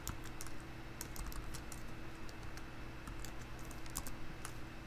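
Keys clatter in a quick, irregular run on a computer keyboard during a programming session, steady close clicking over a low hum with no talk.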